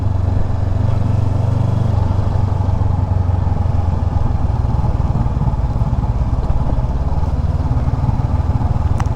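A motorcycle carrying two riders cruises toward Pang Ung in Mae Hong Son, its engine producing a steady, continuous drone with road rumble and no pauses.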